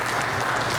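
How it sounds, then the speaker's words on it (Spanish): Church congregation applauding after a Spanish-language sermon, a dense continuous patter of many hands clapping at steady volume throughout the short moment. "Denle un aplauso al Señor."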